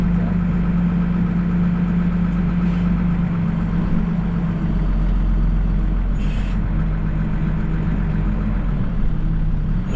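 A heavy Case tractor's diesel engine idles loudly and steadily, a low constant throb that never lets up, with faint hisses now and then.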